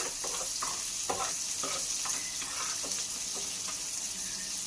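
Ivy gourd (dondakaya) frying in a pan, with a steady hiss and sizzle broken by repeated scraping stir strokes, loud and close, no voices.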